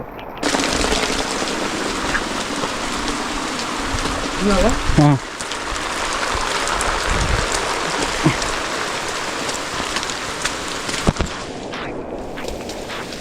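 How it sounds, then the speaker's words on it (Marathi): Steady, dense monsoon rain pours throughout in a village, a constant broadband hiss with a few brief knocks and a short spoken word partway through. "गावाला मुसळधार पाऊस सुरू आहे"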